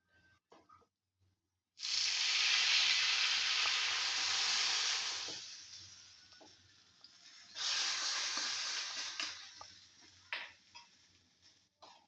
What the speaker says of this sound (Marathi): आता ही फोडणी आपण डाळीत टाकणार आहोत.